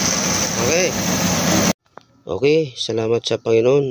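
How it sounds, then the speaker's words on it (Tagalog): Suzuki F6A engine of a multicab running steadily after a troubleshooting no-start fix, a loud close idle drone that cuts off abruptly, then someone speaks over near silence. "Napaandar na po natin ang makina ng multicab na ito. Ang kanyang makina po ay Suzuki F6A."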